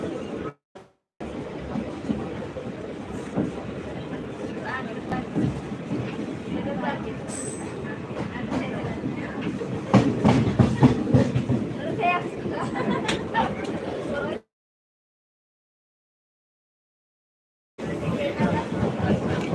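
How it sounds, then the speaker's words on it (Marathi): Indian Railways passenger train travelling back to Pune from Baramati, a steady loud rumble of the moving carriage with rattling and clatter, chatter of passengers in the background, broken by a brief silent gap near the end. "आपण चाललेलो आहोत इंडियन रेल्वे"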